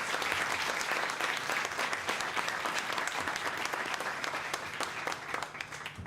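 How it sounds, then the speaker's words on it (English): An audience at an educators' awards event applauds an honoree with sustained, even clapping that fills the room for about six seconds and tapers slightly at the end. "Natalie, could you please stand up and receive our applause?"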